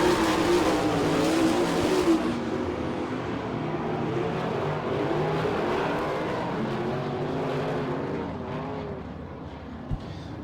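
410 sprint cars roar around the dirt oval at Attica, Ohio, engines screaming loud and close at first, then blending into a steady, slightly more distant drone of the field racing through the turns.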